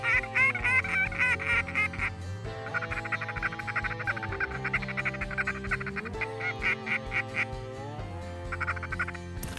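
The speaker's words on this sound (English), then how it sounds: "Here comes some more ducks." Flock of ducks and geese calling in flight over a Saskatchewan waterfowl hunt, a dense, continuous chorus of overlapping honks and quacks, loud and close for the whole stretch with no talking.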